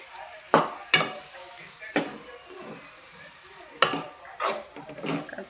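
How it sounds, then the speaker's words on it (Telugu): A spatula stirs crispy potato fry with chili powder in a pan, giving several sharp scraping strokes at irregular intervals over a faint background, with no talking. "కారం వేసుకొని కలుపుకోవాలి."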